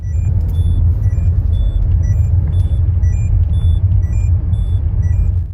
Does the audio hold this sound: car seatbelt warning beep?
yes